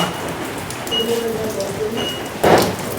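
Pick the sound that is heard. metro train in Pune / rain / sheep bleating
rain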